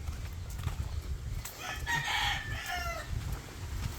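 Chickens cluck and a rooster gives a short, fairly faint crow amid outdoor background noise.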